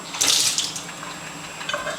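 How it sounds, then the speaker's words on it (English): Water poured out of an opened can of Vienna sausages, a brief splashing trickle that swells early then thins to a steady light pour, close and alone. "Throw away that water"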